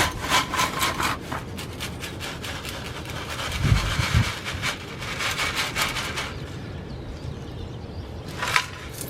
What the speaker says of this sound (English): You push the scoop in, shake out all the sand, and what you're left with is the droppings.